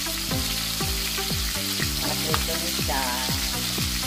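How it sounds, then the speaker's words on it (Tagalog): Smoked milkfish (tinapa na bangus) frying in hot oil, with steady sizzling and crackling under a rhythmic pattern of descending musical tones, and someone speaking briefly over it. "pinirito na natin yung ating tinapa na bangos"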